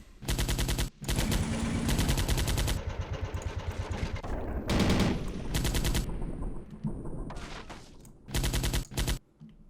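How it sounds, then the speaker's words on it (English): Coaxial machine gun fire in the war game Men of War: Assault Squad 2, loud rapid automatic bursts repeating in long strings with brief gaps, dense and close. "This coaxial machine gun doesn't even go up or down?"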